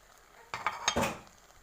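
Basmati rice tipped into a pan of hot oil with onions and spices gives a short burst of sizzling and clattering grains, a few close rattling hits lasting about a second before fading.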